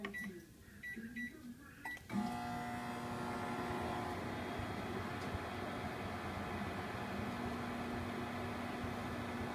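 A microwave oven switched on with a $100 bill inside: after a short beep and a click, a steady low hum settles in and runs evenly to the end, faint and unbroken.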